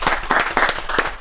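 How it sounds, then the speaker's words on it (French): A studio audience claps for a new columnist, a short burst of distinct, fairly sparse hand claps that lands in quick uneven beats and fades within a second or so. "d'applaudir fort notre nouvelle chroniqueuse du jour"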